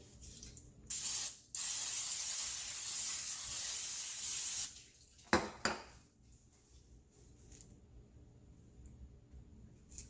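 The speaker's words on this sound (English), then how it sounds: "I'm going to spray it with some cooking spray." A loud hissing burst of cooking spray, then continuous spraying for about three seconds before air frying, followed by a couple of clinks and quieter handling sounds.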